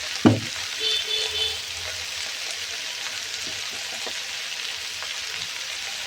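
Spiny gourd (kakrol) slices fry in a pan with a close, continuous sizzle and crackle, opening with a brief clatter of adding something before the spitting settles into an even hiss.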